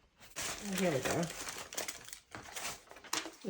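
A small piece of order paper crinkled by hand during a vintage Christmas journal craft project, a quiet crackling rustle that rises and falls over a few seconds with soft, faint speech in the background.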